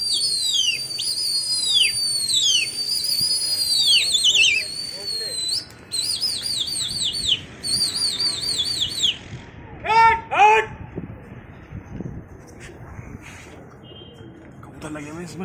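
Pigeons in a large fighting-pigeon loft coo softly beneath repeated high whistling chirps, with occasional sharp calls and a voice speaking now and then.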